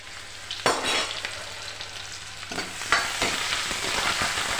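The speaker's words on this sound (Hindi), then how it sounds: "थोड़ी मेथी गिर दी दाना और प्याज गिर दी, ये थोड़े ब्राउन हो जाएंगे" Fenugreek seeds and onion fry in a pan of oil as the first step toward pakoras, giving a steady sizzle with a few sharp stirring clatters near the start and in the middle.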